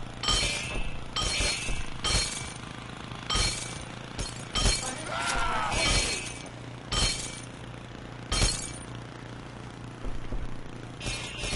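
Glass shatters repeatedly in the video game Happy Wheels, with a string of sharp crashes and clinking bursts at irregular intervals over a low game hum.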